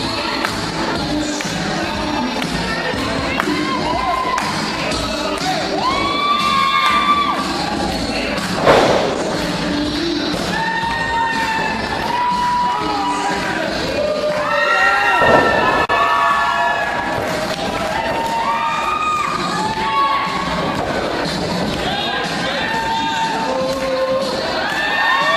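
A wrestling arena crowd cheers and shouts loudly and steadily, with whoops, thuds and stamping running throughout and brief louder surges of noise.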